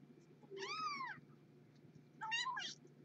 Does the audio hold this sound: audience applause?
no